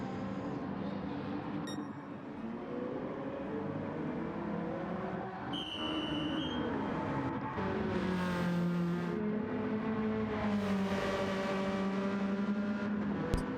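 Race car engine in a racing video game at Lago Maggiore, a steady loud whine that rises and falls through gear changes and corners, with brief tire squeal and a car passing, no talk over it.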